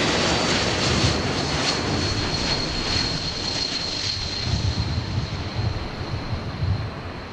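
An Air Canada C-Series 300 jet airliner at the LAX runway gives off a steady broadband roar that holds loud through the whole stretch, with a faint high whine riding on top and no talk.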